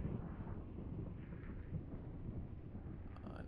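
Thunder after lightning in a VRChat horror world: a low, muffled rumble rolls steadily and fairly faintly for a few seconds with no talk over it.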